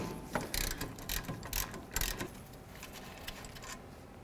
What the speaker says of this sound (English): remove these bolts that hold the caliper to the bracket using a 13 millimeter